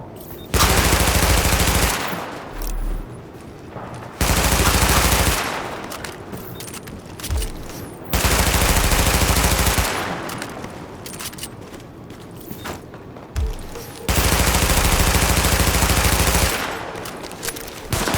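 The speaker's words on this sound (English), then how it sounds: "Weapon test initialized. Open fire at the highlighted targets." Bursts of automatic gunfire during a weapon test at highlighted targets in The Division video game, four long loud sustained volleys separated by quieter gaps with scattered single shots.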